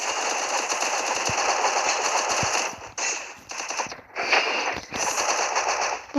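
Automatic gunfire from the video game Free Fire (Bermuda) rattles in long rapid bursts, loud and close, broken by a few short pauses, with no speech.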